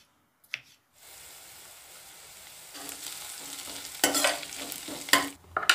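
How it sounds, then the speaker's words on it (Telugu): Chopped onions and green chillies drop into a hot tempering pan: quiet at first, then a sizzle builds with bursts of spoon stirring and scraping, close by, with no talking. "పోపులోకి కట్ చేసుకున్న ఉల్లిపాయ, పచ్చిమిర్చి ముక్కలు కూడా వేసేసుకుని ఒక్కసారి కలిపేసుకుని మూత పెట్టి మగ్గించుకుంటున్నాను"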